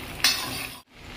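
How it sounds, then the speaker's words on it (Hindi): Green chilies hit hot butter with a sharp sizzle, crackling steadily at close range before a brief cut to near silence, then frying resumes. "अब हम इसमें तड़का लगाएंगे"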